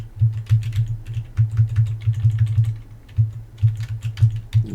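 Fingers type on a computer keyboard: quick, crisp key clicks in uneven bursts with short pauses, close and clear, with no talk.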